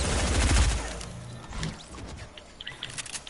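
Rapid gunfire from a shooter video game with a turret and pistol, a dense burst of shots early that thins into scattered, fainter pops and clicks.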